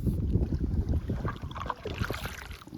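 A kayak paddled on open water: close, repeated splashing and sloshing strokes in a steady rhythm, mixed with wind buffeting the microphone, no talking.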